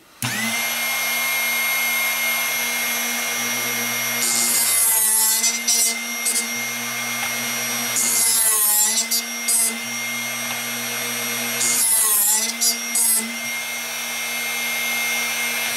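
A Drill Doctor sharpener grinds a drill bit over a steady motor whine, with three separate bursts of rough, scraping contact around four, eight and twelve seconds as the bit is turned against the wheel.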